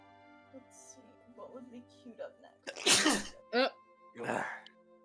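Someone at a tabletop role-playing game session gives a single sharp, loud sneeze partway through, with casual talk before it and a second brief burst and more talk after.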